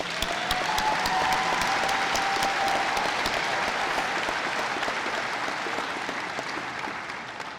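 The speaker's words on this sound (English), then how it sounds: "If we could give those a round of applause." Graduation ceremony audience at a technical college giving sustained applause, a thick, even wash of clapping from a large crowd that holds steady and slowly fades toward the end, with scattered sharp individual claps.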